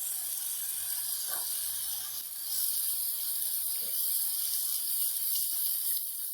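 Fresh green peas are tipped into fried masala with separated oil in a pan. The result is a steady, fairly soft hiss and sizzle that runs the whole time, with faint scrapes and no talk.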